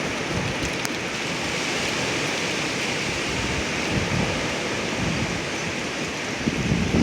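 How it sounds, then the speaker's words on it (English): Strong windstorm gusts in northern Oklahoma roaring as a continuous loud rush with heavy buffeting against the microphone, swelling slightly toward the end, no talk. "This wind has been insane."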